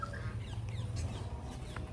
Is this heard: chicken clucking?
yes